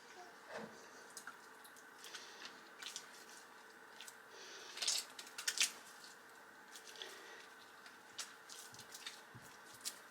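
Homemade butter being squeezed by hand, buttermilk pressing out through it, gives soft wet squishes and drips, with a few sharper squelches near the middle. The sounds are close and fairly quiet, and nobody speaks.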